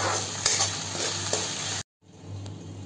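Onions being stirred with salt in a pan for bhindi sabzi, a continuous close sizzle with scraping spoon strokes, briefly cut to silence before the frying resumes more quietly.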